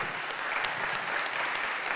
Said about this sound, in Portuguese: peço uma salva de palmas para os nossos debatedores